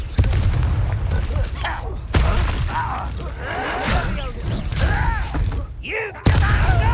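Confringo blasting spells burst in the Hogwarts Legacy video game, with sharp booming explosions at the start and again near the end. Crackling, whooshing magical effects and combat noise fill the space between them.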